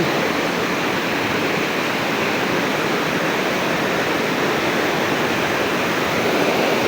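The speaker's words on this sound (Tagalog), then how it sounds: "Malakas ang tubig kasi." Strong river current rushes beneath a swaying bridge in Prinza, Rizal, heard as a continuous, even roar of water with no pauses or voices.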